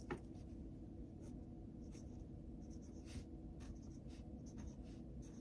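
A pen scratches across paper as crochet notes are written by hand, faint and close, in short intermittent strokes over a quiet room hum.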